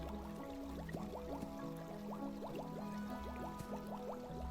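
A pressure washer sprays water in the Scrub Dudes video game, a continuous gurgling, bubbly liquid sound with rhythmic burbling pulses, steady and close with no talking.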